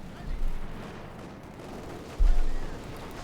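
Bursts of gunfire and white phosphorus shelling from a Company of Heroes 2 match: two muffled booms, one near the start and a stronger one about two seconds later, over a low rumbling battle bed.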